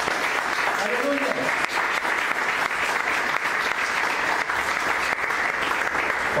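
Church congregation applauding as an offering to God, a steady, dense wash of clapping throughout, with a voice faintly heard beneath it.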